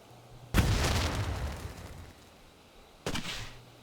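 Two Firework Brocade bursts in the video game Planet Coaster 2, each a sudden bang trailing into a crackling, fizzing hiss that fades away, the second arriving a few seconds after the first.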